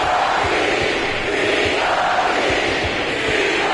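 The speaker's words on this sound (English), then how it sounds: "It's always nice to perform like this, especially in front of the faithful home crowd." A home crowd roars in an NBA 2K26 basketball game between the Heat and Timberwolves, a dense, steady wall of cheering that fills the whole moment, loud and continuous with no speech over it.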